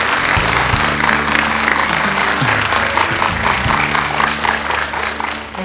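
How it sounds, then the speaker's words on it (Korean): A TV studio audience claps loudly to welcome a history lecturer, a full burst of crowd applause that holds steady before tapering off at the end, with no one speaking. "큰 박수 부탁드립니다"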